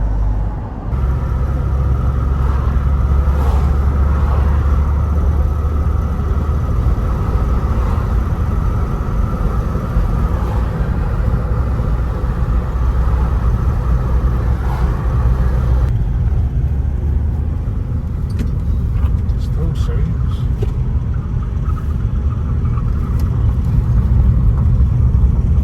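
A VAG 1.6 TDI diesel engine with a faulty, knocking injector runs steadily, giving a loud, continuous low rumble with no pauses and no voices.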